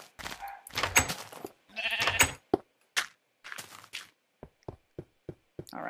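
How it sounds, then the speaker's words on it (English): In Minecraft, a sheep gives a few close, clear bleats, followed by light footstep-like ticks from the game. "There's a sheep. A sheep."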